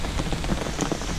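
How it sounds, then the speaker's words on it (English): Heavy rain pours down during a mountain hike as a thunderstorm moves in: a loud, dense, unbroken hiss of drops pattering on surfaces nearby, with no one speaking. "now we're getting some serious rain coming down"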